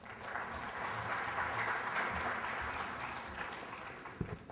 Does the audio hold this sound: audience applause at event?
yes